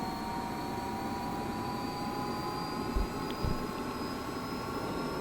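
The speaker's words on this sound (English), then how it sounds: "that's the turbine's now at full power, and the RPM there's coming up to match it" The turbine of a Gazelle helicopter in the DCS flight simulator runs at full power, a steady whining drone with layered high tones and a constant low rumble, with two brief thumps partway through.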